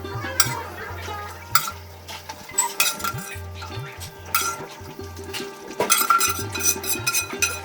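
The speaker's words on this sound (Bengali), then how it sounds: "মাছের মাথা দিয়ে দিচ্ছি।" Fish head going into a pot of tender jute greens, with metal utensil clatter, scraping and stirring against the pan, close and fairly busy, over a low background hum.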